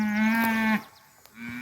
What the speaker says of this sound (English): Short horn bull, shaping up well.